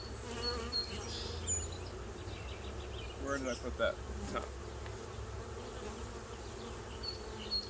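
Honeybees buzzing around an open hive being split with a double screen separator board, a close, steady swarming hum with individual bees flying past, while a person talks briefly.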